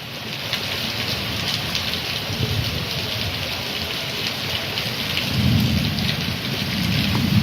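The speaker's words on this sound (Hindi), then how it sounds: "गर्मी के अंदर अच्छा ही है पर बहुत तूफान हो रहा है।" Heavy rain pours down steadily in a thunderstorm on a summer afternoon, with continuous dense hiss and low rumbling thunder that swells louder toward the end. No one speaks.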